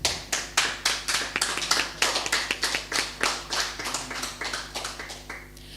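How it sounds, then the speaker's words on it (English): Audience applause fills a virtual conference session: a steady run of claps, fairly close and even, gradually thinning toward the end without anyone speaking. "let's show our appreciation with another round of applause for Dr. Balgova."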